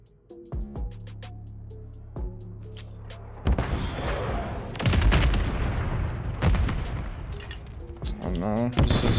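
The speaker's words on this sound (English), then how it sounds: "my VTOL should take him down" VTOL killstreak gunfire in Modern Warfare 3, heard as heavy bursts and booming volleys that build after a few seconds and keep rolling, over earlier game sounds with a voice talking throughout.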